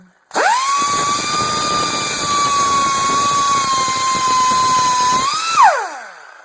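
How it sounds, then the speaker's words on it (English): A high-pitched power tool, likely an angle grinder, whines steadily and close while grinding off tack welds on a vehicle's upper control arm, spinning up at the start and winding down at the end with no talk. "I ground these two tack welds off."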